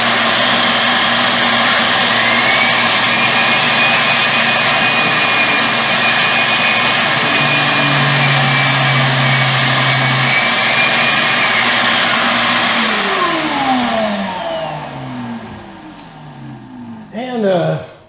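A shop vacuum or sander on a utility stand roars loudly and steadily with a high whine, then is switched off and spins down, its pitch sliding away until it goes quiet.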